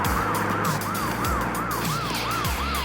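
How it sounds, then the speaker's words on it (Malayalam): An ambulance siren wails in a truck simulator video game, its rising and falling tone repeating steadily and loudly over game engine noise, with no talk. "ആംബുലൻസ് അല്ലേ?"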